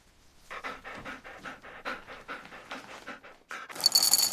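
A dog pants close by in quick, rhythmic breathy huffs, about a dozen in a row, loud and alone without any voices.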